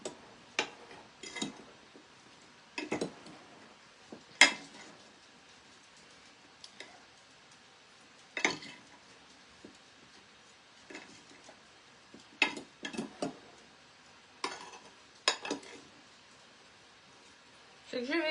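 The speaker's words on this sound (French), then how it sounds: "on va bien mélanger le tout" Spoon or whisk scraping and tapping against a bowl while mini cake batter with apricot and peach is stirred together, in short irregular clinking bursts at close range, with quiet pauses between strokes.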